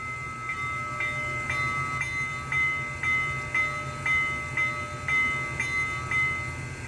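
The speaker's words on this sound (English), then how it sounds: "Really, really good bell." Digital sound bell on an Athearn HO model of the Union Pacific 844 FEF 4-8-4 steam locomotive with an ESU LokSound decoder, ringing in a steady, even rhythm of about a dozen clear metallic strikes over a faint background hum.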